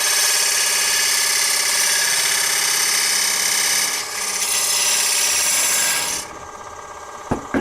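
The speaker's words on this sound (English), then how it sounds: "put in a little V cut at the distance that I want the edge to be" Parting tool cutting a small V groove into spinning wood on a wood lathe, a steady bright scraping rasp that runs for several seconds, dips briefly, then cuts off, leaving quieter lathe hum and a final knock.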